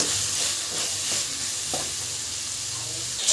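Dry fish curry masala sizzles and fries steadily in a pan while it is stirred, a continuous hissing crackle with soft scraping strokes and no talk.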